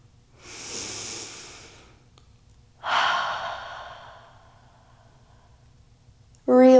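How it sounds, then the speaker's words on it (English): A deep inhale during a yoga session, drawn in as a long breathy rush, then a second, stronger breath after a pause, both close and soft, ending with a short burst of voice. "Take a deep inhale."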